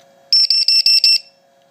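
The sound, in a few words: low voltage alarm of RC battery voltage checker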